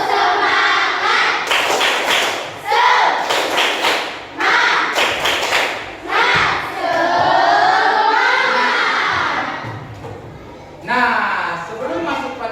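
Junior high students in a classroom do a rhythmic spirit clap, with bursts of patterned group claps alternating with loud chanting voices and short pauses between phrases.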